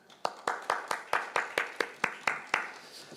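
Congregation in a Korean church service claps in slow unison after a healing prayer, about eleven crisp, evenly spaced claps ringing out clearly with no talk over them.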